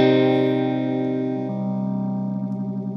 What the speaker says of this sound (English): the rate is so fast that you don't actually hear phasing anymore,